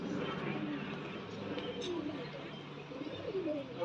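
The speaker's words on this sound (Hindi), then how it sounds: "और ये रहे हमारे कबूतर" Soft pigeon coos repeat at low volume over a busy background murmur, several birds calling in gentle, overlapping phrases.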